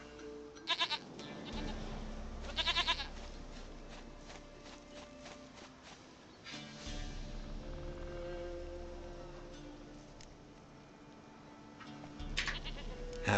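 Short, fairly loud goat bleats from The Witcher 3 recur in a few bursts, set against steady background game music with some faint hoof-like clops.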